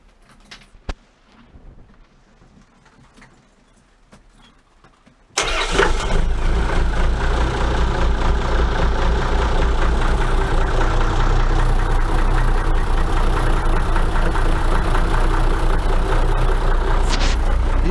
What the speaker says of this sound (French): Il est super ce moteur.